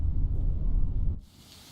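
Heavy rain and a deep thunder rumble in the game The Letter, a loud steady low roar that cuts off after about a second, leaving a quieter hiss of falling rain.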